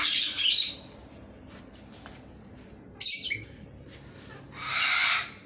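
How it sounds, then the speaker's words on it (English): Silver crested cockatoo giving three harsh, loud squawks close by: a burst at the start, a short sharp one midway and a longer rasping call at the end, with quiet gaps between. "This cockatoo, silver crested, this is a little bit hostile towards me."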